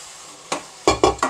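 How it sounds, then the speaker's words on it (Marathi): Mutton pieces are stirred into a sizzling onion and dry coconut tempering for a village-style black mutton curry, with a spatula scraping the pan in four quick, loud strokes over a soft frying hiss. "आता आपण मटण टाकून घेऊया ह्याच्यामध्ये."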